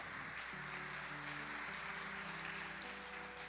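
Church congregation on its feet applauding during worship, a dense steady wash of clapping running throughout with sustained organ or keyboard tones layered underneath.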